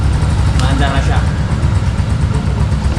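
A 2024 Kawasaki CT125 Bajaj motorcycle engine idles steadily after starting with the choke on, a continuous low rumble held close to the microphone, while someone talks over it.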